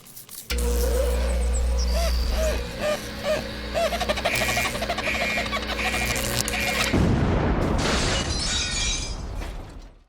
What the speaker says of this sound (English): but it does explode